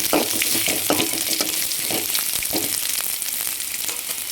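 Steady sizzling of vegetables sautéing in a pan for snake gourd kootu, with occasional stirring scrapes and clicks, close and continuous throughout.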